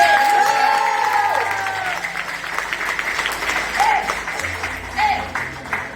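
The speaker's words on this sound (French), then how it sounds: "on va vous applaudir encore une fois" Audience applause fills a hall at a school eloquence contest in Viry-Châtillon, a steady crowd clapping that holds for several seconds with occasional cheers and whistles rising over it.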